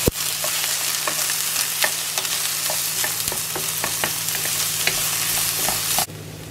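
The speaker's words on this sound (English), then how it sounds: "so I'm going to start frying off the onions" Onions fry in a pan with a bright continuous sizzle, close up, punctuated by scraping clicks of stirring, over a low steady hum, before the sizzle drops away at the end.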